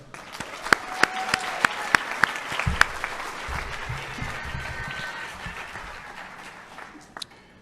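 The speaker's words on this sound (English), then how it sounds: "Another round of applause for her." A high school athletic awards ceremony crowd breaks into applause, opening with a few sharp individual claps before swelling into a broad, sustained round of clapping that gradually fades.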